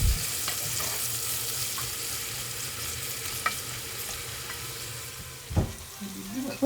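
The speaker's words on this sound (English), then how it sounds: "I've added my onions and I'm going to saute for a few minutes." Onions sautéing in preheated oil for jollof rice, a steady close sizzle and crackle running throughout, with a few soft clinks of a utensil against the pan and no talking.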